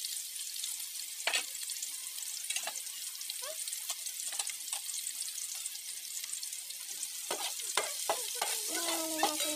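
Garlic and onion sautéing in a pan for a Filipino coconut-milk tilapia dish, a steady soft sizzle with scattered scraping clicks of a spoon stirring throughout, no talking.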